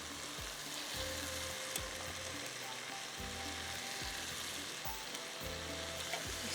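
Pieces of fish fry in hot oil with a steady, even sizzle, while faint low thumps recur every second or so in the background.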